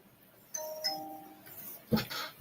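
A doorbell chime rings twice in a short two-tone ding-dong, fairly close and moderately loud, with a brief rustling burst near the end.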